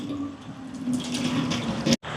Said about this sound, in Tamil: இப்போ எங்களோட உலைக்கு தேவையான அளவுக்கு தண்ணி எடுப்போம்.